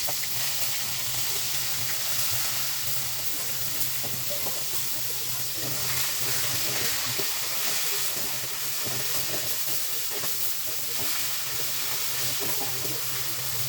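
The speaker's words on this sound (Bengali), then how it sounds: "এখন আমি ইলিশ মাছের মাথাগুলোকে ভেজে নিব।" Hilsa fish heads fry in hot oil with a loud, continuous hiss and crackle that holds steady throughout, close to the pan, with no voices.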